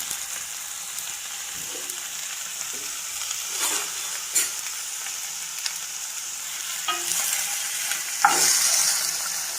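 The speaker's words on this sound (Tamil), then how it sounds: "கேப்சிகம் எல்லாத்தையும் ஒன்றா சேர்க்கணும் தக்காளி இதெல்லாம் சிம்மில் வச்சுட்டு மிதமான தீயில் வச்சு வதக்கணும்" Capsicum and tomato sautéing in a pan for chutney over medium heat, a soft steady sizzle with occasional spoon scrapes and stirring knocks, close and alone.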